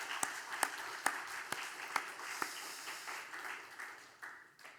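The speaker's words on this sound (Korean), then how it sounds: "우리 함께 힘찬 격려의 박수 한번 보내겠습니다" Applause from a church congregation during a Sunday worship service, a dense patter of clapping with a few sharper claps standing out, moderately distant and steady before thinning slightly toward the end.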